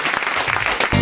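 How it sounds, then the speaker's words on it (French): Studio audience applause on a French television talk show, a dense steady patter of many hands sustained through the moment and swelling louder at the end. "on applaudit Caroline et Benjamin"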